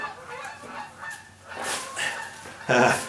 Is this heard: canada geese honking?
yes